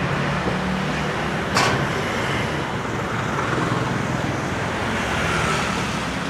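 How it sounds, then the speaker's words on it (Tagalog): Busy street traffic in Taiwan forms a steady, dense rumble of passing cars and other vehicles, loud and close, with a brief sharp sound near the start and no clear voices. "Dami sasakyan."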